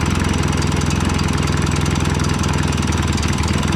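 A Yamaha XS650 motorcycle engine idling low, close and loud, with an even, steady, rapid mechanical thumping and pulsing that holds constant throughout.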